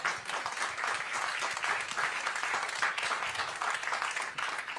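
A crowd at a political speech applauds continuously, a full, even roar of many hands clapping heard from a distance and sustained throughout.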